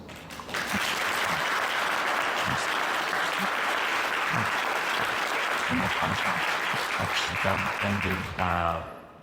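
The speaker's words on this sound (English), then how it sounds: "applause to Chris" Audience at a fan convention panel applauding, a dense sustained burst of clapping close by that swells quickly, holds for several seconds with voices mixed in, then tapers as a person starts speaking near the end.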